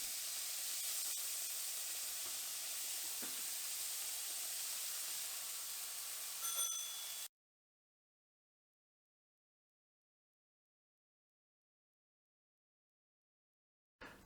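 Two burger patties frying in a pan, a soft, steady greasy hiss with faint crackles for about seven seconds, then silence, with a brief sound at the very end.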